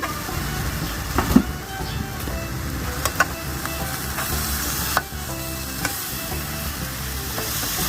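Bananas fry in a covered pan over low heat, giving a steady, close sizzle throughout with a few light clinks and scrapes.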